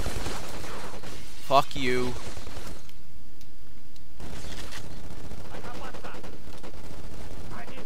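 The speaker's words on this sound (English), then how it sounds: "Watch me die faster because I'm running around with a machine gun." Machine gun fire in the PS2 first-person shooter Black, played on a PS3, a steady dense rattle of automatic gunfire that drops out briefly midway, with a man swearing over the shooting.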